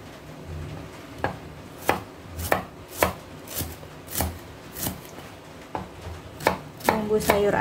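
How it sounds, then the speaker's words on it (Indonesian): A knife slicing shallots and garlic on a cutting board for sayur asem, a dozen or so distinct, irregular chopping knocks, close and clear over a quiet background. "mau iris-iris dulu per bawang-bawangan untuk sayur asem"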